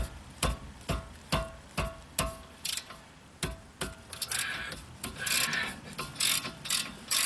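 Sharp metallic knocks strike in a steady rhythm as a wrench on a car bolt is pounded, about a dozen hard hits at close range, with a rougher scraping clatter between the later blows.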